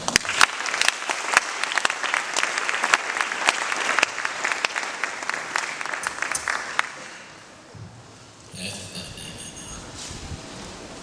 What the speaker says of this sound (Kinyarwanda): Reka dusubire dukoma amashyi.